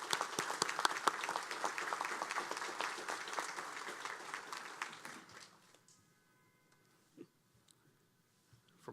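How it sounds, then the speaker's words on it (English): An audience at a police academy graduation gives a round of applause for the DeKalb Police Honor Guard, the dense clapping filling about five seconds before fading into a quiet room with a few faint scattered sounds. "please join me in giving a round of applause for the DeKalb Police Honor Guard"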